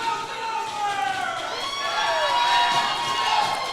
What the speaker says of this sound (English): This crowd is at a fever pitch. You can barely hear over them banging the tables, Walker.